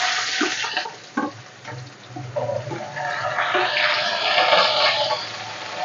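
Onions drop into hot oil and break into a steady, loud sizzle that builds and holds, close up in a home kitchen with no talking.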